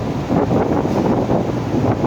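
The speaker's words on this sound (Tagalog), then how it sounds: "Parang malakas ang hangin at parang uulan mga kaibigan." Strong gusting wind buffets the microphone at Pioduran on a stormy afternoon near the ship, a loud, steady broadband roar with rumbling low end that persists throughout, with no voices.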